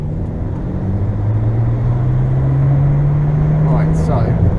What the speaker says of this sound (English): second gear, do a little pull